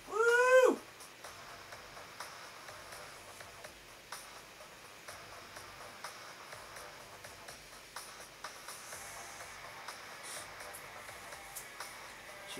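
An indoor studio cat gives a single short, close meow at the start, then only faint room noise with light rustling for the rest.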